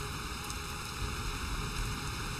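Steady rain hiss in a video game, Mario The Music Box, a dense broadband wash that holds evenly and unbroken throughout with no voices over it.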